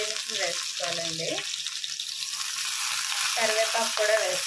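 Mustard seeds, garlic and other tempering spices sizzle steadily in hot oil for a sessile joyweed (ponnaganti) dal. The hiss is continuous and close, and a voice speaks briefly over it at the start and end.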